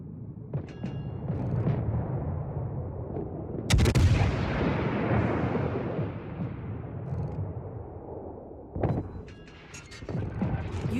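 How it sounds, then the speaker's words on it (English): Warship guns fire at an enemy ship in a naval combat video game, with heavy booming salvos that crack in loudly and roll into a long rumbling decay over a continuous, loud battle din. "Concentrate fire on the enemy warship!"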